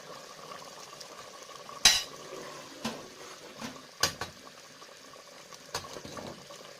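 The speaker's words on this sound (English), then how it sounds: "After about 6 minutes, you can see that the sauce is bubbling." Carrot jollof rice sauce bubbling in a pot, a soft steady simmer with occasional louder pops and clinks, close and fairly quiet.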